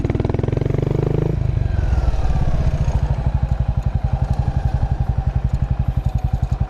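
Buell Blast motorcycle engine idling nearby, a brief rev settling into a steady, rhythmic thumping idle with a clattering edge.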